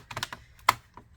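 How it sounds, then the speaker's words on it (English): The keyboard of an HP Pavilion 15-b153cl laptop is pressed back into place during reassembly, giving a few sharp, close plastic clicks and snaps spaced irregularly, the loudest near the middle, in otherwise quiet surroundings. "Click all of this back down into place."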